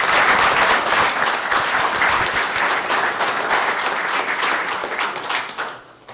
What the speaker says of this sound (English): Let's get a round of applause for Luis.